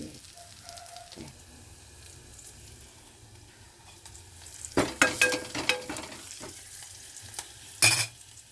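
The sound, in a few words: fried buttermilk curry sizzling while stirred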